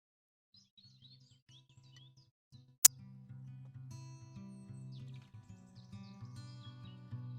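Bird call from the Wingspan digital board game: a few brief, light chirps rising above soft, steady game music, with a sharp click partway through.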